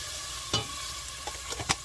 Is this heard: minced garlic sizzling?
yes